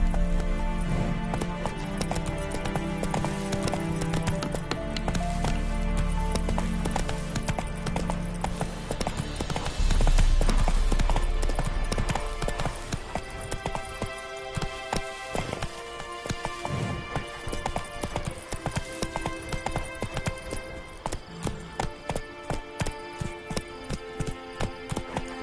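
Roach, a horse in The Witcher video game, gallops in a steady rapid clip-clop of hooves that carries on throughout, loud and close over dense game music and ambience, the rhythm turning sharper and more distinct in the final seconds.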